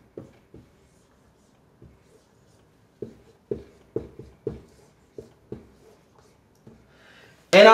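Marker strokes on a whiteboard during a respiratory therapy lesson, drawing two sets of lungs: about a dozen short separate scratchy strokes at an uneven pace, close and moderately quiet, ending in a louder squeaky rub, with no talking.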